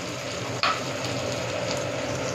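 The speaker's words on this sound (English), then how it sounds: "So first of all, we will fry our onions" Onions and capsicum frying in a pan, a steady close hiss of sizzling oil throughout, broken once by a brief sharp clink of a utensil against the pan.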